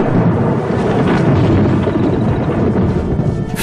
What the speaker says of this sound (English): A storm approaches.